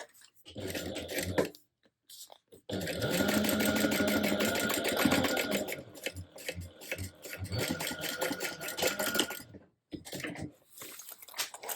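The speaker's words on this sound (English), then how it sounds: "you can go ahead and top stitch at an 1/8 of an inch away from the seam that you just created" A sewing machine top stitches a seam on a clear bag, close and steady whirring runs broken by short pauses, with the stitching picking back up after each stop.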